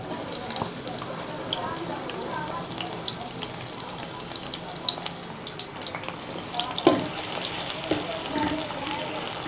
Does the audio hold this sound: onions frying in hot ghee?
yes